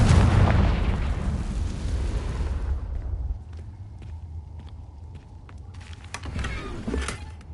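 A Confringo fire spell from Hogwarts Legacy erupts in a loud, close explosive blast with a long rumbling tail that fades after about three seconds, followed by quieter thuds and footstep-like game noises.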